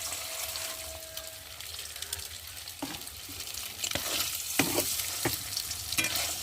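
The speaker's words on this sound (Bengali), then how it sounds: "একটু ভালো করে ভেজে নেবো ডিমগুলো" Eggs frying in oil and being stirred, a steady close sizzle marked by repeated scraping and clacking strokes of a spatula, growing busier toward the end.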